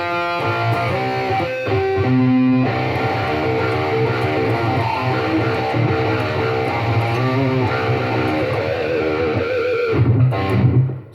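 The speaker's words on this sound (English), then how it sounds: "That's distortion." A distorted electric guitar in drop C tuning with Dunlop Reverend Willy 7-38 strings plays loud, dense riffs and sustained chords for about eleven seconds, with no talking over it.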